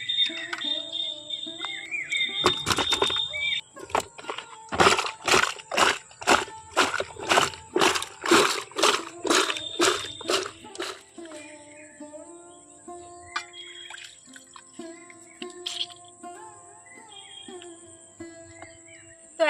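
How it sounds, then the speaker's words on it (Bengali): Wet squishing and sloshing as pieces of ash gourd are washed and squeezed by hand in water, with a run of rapid, rhythmic squelches in the middle and quieter handling before and after. Birds chirp faintly in the background. "এখন আমি সবগুলো চাল কুমড়ো থেকে জলটা খুব ভালোভাবে চেপে চেপে বের করে দিয়েছি"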